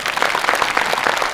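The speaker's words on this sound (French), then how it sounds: "on s'applaudit" A short burst of loud, dense clapping from a live audience, brisk and continuous with no voices over it.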